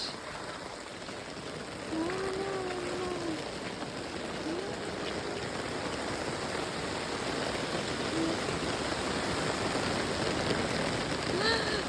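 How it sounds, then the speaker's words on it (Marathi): Heavy monsoon rain falls over the Konkan countryside near rice fields, a steady broadband hiss that thickens after the first couple of seconds, with faint tonal calls in the background. "सुंदर एक नंबर पाऊस पडतोय"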